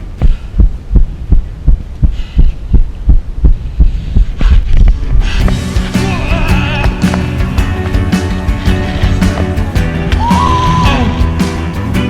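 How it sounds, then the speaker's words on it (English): Human heartbeat pounding in the chest after a huge rope swing, a close, heavy, rapid thumping rhythm that is soon swamped by a loud rushing roar. "Listen closely as you can hear my friend's heart beating through his chest."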